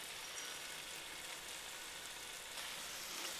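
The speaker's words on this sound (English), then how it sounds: "That's what frying is all about." Chicken frying in a Dutch oven, a faint, steady hiss and crackle of sizzling oil with no talk.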